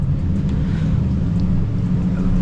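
A widebody Dodge Scat Pack with only a mid muffler delete cruises at night, its exhaust a steady low burbling drone filling the cabin, close and fairly loud with no talking.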